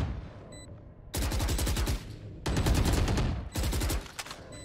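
Gunfire in a competitive shooter video game match, three loud automatic bursts of rapid shots with short pauses between, close and punchy, no talk.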